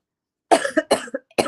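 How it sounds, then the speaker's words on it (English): A short burst of several harsh coughs in quick succession, close and loud, after a moment of silence. "I'm coughing"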